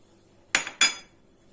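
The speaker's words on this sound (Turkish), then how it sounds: "Şöyle bir kaşık yardımıyla tüm malzemelerimizi güzelce karıştırıyoruz." A spoon knocking against a bowl while stirring dry semolina, sugar, baking soda and cinnamon, two quick close clinks in succession, alone over quiet room noise.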